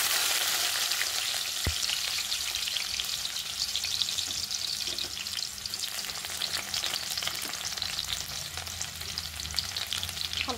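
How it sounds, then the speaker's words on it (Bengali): Chopped garlic sizzling in oil left over from frying pakoras, a steady, bright crackle with occasional stirring scrapes in the pan, close and fairly loud with no talking. "হালকা করে রসুনটা একটু ভাজা নেব।"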